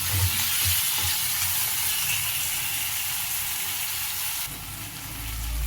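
Chopped tomatoes frying in a little oil for egg curry are stirred in a pan, giving a steady, close sizzle with scraping stirring strokes throughout.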